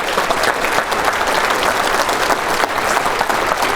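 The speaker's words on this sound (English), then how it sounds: "Give yourselves a big round of applause." An audience at a talk on sobriety in construction culture claps loudly and steadily, a dense continuous round of applause close and full.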